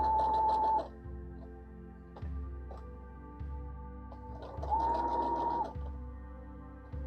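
A sewing machine stitching appliqué slowly on soft, frail fabric, its motor whirring in short separate runs of mechanical stitching with brief quiet gaps between them.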